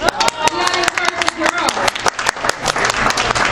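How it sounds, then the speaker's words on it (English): Crowd clapping fills the space, dense and steady throughout, with voices mixed in over the applause. "I think you guys are gonna clap a little louder, right?"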